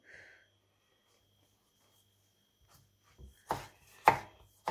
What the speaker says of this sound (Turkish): Domateslerimizi doğrayalım.